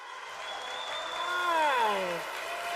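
Conference audience at App.js Conf 2024, a React Native event, applauding a speaker: steady, moderately loud clapping fills the whole stretch, with a smooth gliding tone sweeping down across it midway.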